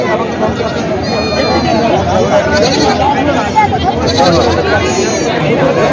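Goats at a bustling goat market in Parbhani, Maharashtra, several wavering bleats rising over a thick babble of crowd chatter and nearby voices.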